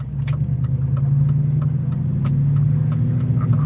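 A car with a modified exhaust idles with a deep, steady rumble, close by, its throaty burble continuous throughout with no talking.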